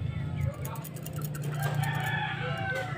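A rooster's crow plays from a small speaker built into a fishing lure, a thin, tinny electronic call heard up close, with clucking sounds mixed in.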